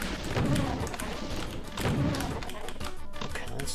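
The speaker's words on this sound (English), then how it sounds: "Finish them off with a super shotgun." Super shotgun blasts in Doom during a speedrun: two heavy booming shots about 1.5 seconds apart, each with a thudding low-end punch, over busy game noise.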